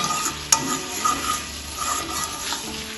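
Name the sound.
stirring garam masala into cooked brinjal in pan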